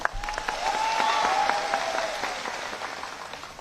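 Crowd applause at an outdoor political election rally in Bastar for Chief Minister Bhupesh Baghel, a steady wash of clapping sustained throughout with a faint tonal whistle or feedback line riding over it.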